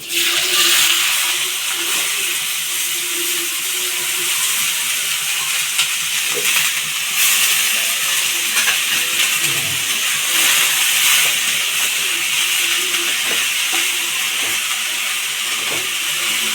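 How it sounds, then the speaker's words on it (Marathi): Chopped onion frying in hot oil for egg bhurji gives a loud, continuous sizzle. Faint stirring and scraping sounds in the pan run under it throughout. "आता मी तेलात कांदा टाकलेला आहे"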